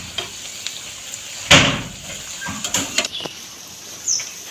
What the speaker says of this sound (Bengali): এই পিঠ ও পিঠ করে দেখো একদম লাল লাল করে আলু বড়াগুলো ভাজা হয়ে গেছে।